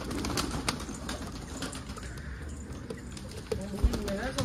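Pigeons coo softly, low and continuous, inside a busy loft of young birds just coming into feather, with scattered flutters and small knocks around them.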